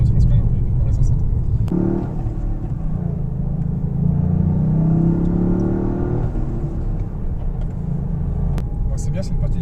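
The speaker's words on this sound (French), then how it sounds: "le bruit qui est le vrai bruit du moteur, mais amplifié dans les enceintes" Toyota Yaris GR engine, picked up by a microphone in the engine bay and amplified through the cabin speakers: a steady low rumble that swells as revs rise mid-way, then settles, with voices talking over it.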